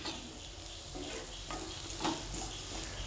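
Garlic, green chilli and spices such as pepper, coriander, turmeric, garam masala and cumin sautéing in a pan, giving a steady broadband sizzle with faint stirring scrapes and no talk.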